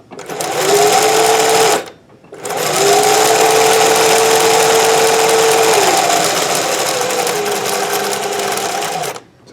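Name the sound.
Singer 411G sewing machine running with custom speed reducer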